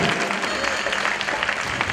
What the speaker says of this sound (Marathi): त्या सर्व आयोजकांचा एकदा जोरदार हात वर करून टाळ्यांचा गजर करावा